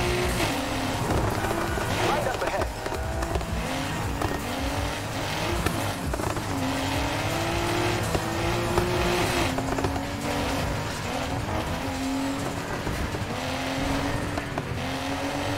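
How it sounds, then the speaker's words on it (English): Race car engine in Need for Speed Heat, roaring loudly and continuously with rising and falling revs, with the popping of a backfiring exhaust throughout a fast street race. "So much backfiring."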